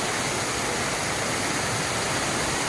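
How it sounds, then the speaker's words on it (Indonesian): Small waterfall at Curug Putri Palutungan at the foot of a mountain, a loud, continuous close-up rush of falling water with no voices. "Jadi kita ada waterfall yang kecil, ada air terjun yang kecil."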